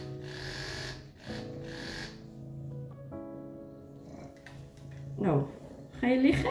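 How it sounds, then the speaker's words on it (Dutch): An electric pet shaver hums steadily at close range on a cat, a low buzzing drone, with a person speaking softly and animal snuffling sounds near the end. "even het scheerapparaat aan, kijken wat de reactie is."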